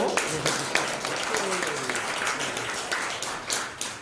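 A church congregation applauds steadily for several seconds after an infant baptism during a Sunday service, with dense clapping throughout and a voice speaking over it.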